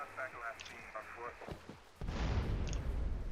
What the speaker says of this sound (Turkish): Bayağı iyi RPG attık bu arada